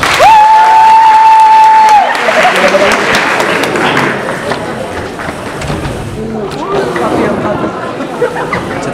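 Applause and cheering from a crowd at a high school freshman ball in Târgu Frumos, starting after a held electronic tone and continuing as a loud, dense, sustained clatter with voices mixed in.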